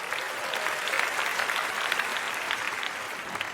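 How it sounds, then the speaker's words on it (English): An audience at a TED talk applauds steadily for three volunteer helpers, a dense, even wash of clapping from a large crowd. "Give all 3 helpers a round of applause."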